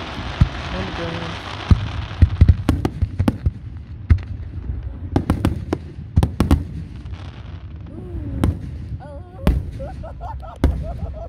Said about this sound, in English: Oh, I love fireworks.